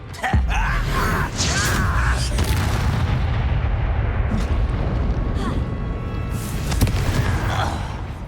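A spell blast booms inside a Harry Potter video game, a heavy sustained roar of rumbling impacts and crackling debris that fills the whole stretch, with faint voices in the mix.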